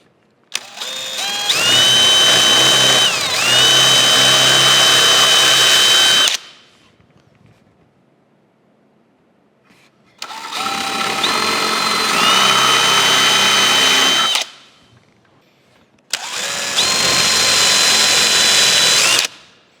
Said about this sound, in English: Let me go get a 3/8 inch drill, and we'll drill some holes for those.